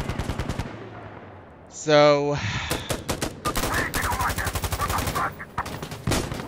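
An FN FAL in support configuration fires in Insurgency Sandstorm, with rapid, loud automatic bursts of closely spaced shots across most of the clip, broken by a short mechanical whir, while someone talks over the firing.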